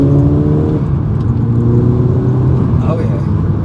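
Rebuilt 2012 Volkswagen Golf GTI with a 2.0 TSI engine accelerating on a test drive, rising engine tones and whir heard from the cabin, loud and close, with someone talking over it.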